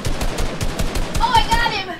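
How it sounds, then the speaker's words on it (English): Rapid gunfire in Fortnite rattles off in a fast, evenly spaced burst of close shots, with a brief higher electronic tone layered over the later shots and a voice nearby. "I heard gunfire."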